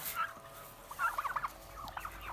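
Turkeys gobble in a rapid, rattling burst near the middle, with a shorter gobble call before and after it. The calls are fairly faint, set against quiet outdoor background.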